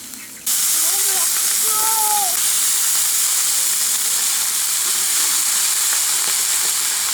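Eggplant drops into hot oil and erupts in a loud, steady sizzle that starts abruptly and holds as a dense hiss throughout, with a brief voice and faint clinks early on.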